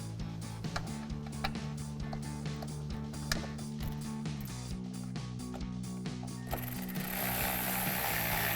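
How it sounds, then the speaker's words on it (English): A power driver runs T20 screws in to mount a fog light on a Jeep Wrangler JL, giving a steady close ratcheting, mechanical whir with repeated clicks that builds to a brighter, noisier burst at the end, with no talking. "install our fog light, install the 3 T20 screws"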